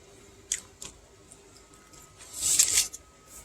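Someone chewing a fresh pasty in an RV, close and quiet crunching in a few scattered bites, with a louder crisp burst toward the end.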